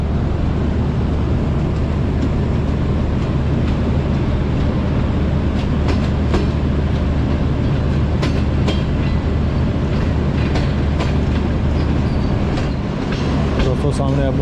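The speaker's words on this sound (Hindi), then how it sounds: "ट्रेन अभी हमारी पास थ्रू हो रही है लाला मूसा जंक्शन से" A train passes through Lala Musa Junction, heard from inside the guard compartment: a steady loud rumble with rhythmic clicks of wheels over rail joints, and someone talks over it.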